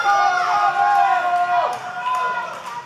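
Wrestling arena crowd cheering and whooping for wrestler Maximo Suave, a loud, sustained wash of voices with rising and falling 'woo' cries and no gap throughout.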